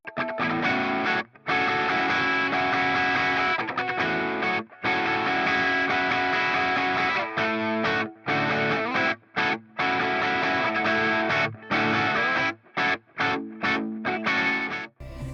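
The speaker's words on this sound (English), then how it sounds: "I'm gonna cut to a clip of me playing a Strandberg that I used to own" Strandberg electric guitar played with a fairly loud, sustained tone, a continuous run of notes and chords broken by several brief silent gaps and stops.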